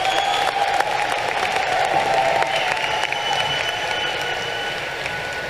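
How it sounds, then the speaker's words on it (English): A crowd applauds a high school graduating class of 2026, sustained dense clapping with some cheering and tonal whistles above it, loud and even throughout. "Please give these wonderful young people a round of applause for all their hard work."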